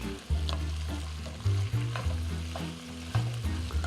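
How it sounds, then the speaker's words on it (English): Curry powder, pepper and garlic fry in a pan and are stirred, a steady nearby sizzle broken by rhythmic scraping strokes about once a second, with no voices. "So we're gonna stir that for about 2-3 minutes"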